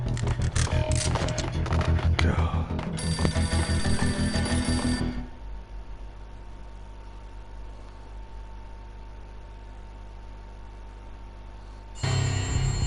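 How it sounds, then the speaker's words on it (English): An old, beaten-up phone rings in an entrance hall in the video game Max Payne, loud repeated ring bursts for about five seconds, then a quieter stretch of ambient hum before another loud burst near the end. "A beaten up phone in the entrance hall was ringing."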